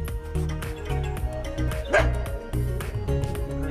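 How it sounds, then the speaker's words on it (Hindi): A dog barks repeatedly close by in a rapid, irregular series, with yips mixed in over a steady background hum. "ऊपर से वैसे रॉकी काफी भौंक रहा है"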